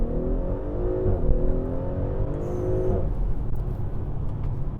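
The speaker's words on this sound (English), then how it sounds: "no better time than the present to do a little hard acceleration" An Audi SQ5 launches hard from a red light, its engine note climbing steadily through the rev range for about three seconds before settling into a steady, loud drone, with no one speaking.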